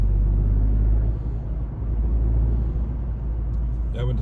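A 2025 Toyota GR Yaris engine at low revs, intake noise prominent: a deep, steady rumble heavy in the bass and close by, droning on with slight swells and a faint clatter near the end.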